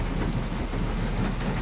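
Steady rain with low rumbling thunder in the farming game Farming Simulator 25, a continuous wash of downpour with a deep roll underneath, loud and with no talking.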